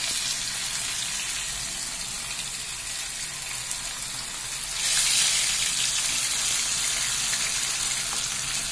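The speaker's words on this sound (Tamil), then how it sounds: "நான் ஒரு 6 மீன் இப்ப ஃப்ரை பண்றேன்" Pomfret fish frying in a pan give a steady broadband sizzle, close and continuous, swelling louder and brighter partway through as the batch crackles in hot oil.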